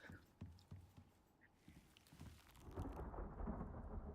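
A thunderstorm in the survival game Icarus brings low rumbles and scattered crackles that swell into a dense, steady wash of rain, with no voices.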